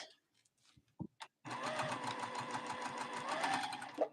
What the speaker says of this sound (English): I'm chain piecing these blocks that I'm making